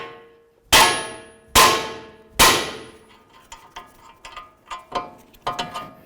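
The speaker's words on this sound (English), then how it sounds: "a couple loving bonks right on the knuckle" Three loud, ringing metal clangs of a hammer striking the steering knuckle on a 2006-10 Dodge Charger during inner tie rod replacement, each decaying slowly, followed by several lighter, quicker taps and clinks.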